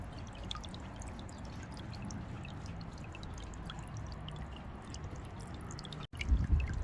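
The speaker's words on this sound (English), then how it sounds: "As you can see, the water is flowing" A Biling solar fountain pump sends water splashing into a bird bath outdoors, a steady, even trickle and patter that continues throughout, briefly cutting out near the end before resuming a little louder.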